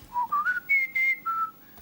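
A person whistles a short, clear melody of about six notes that rises and then falls, imitating the song of a butcherbird. The whistling is heard alone, close and fairly soft.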